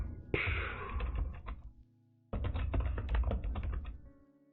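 Quick bursts of clicking and tapping from a new computer keyboard being typed on, close and fairly quiet, in two runs separated by a short near-silent pause.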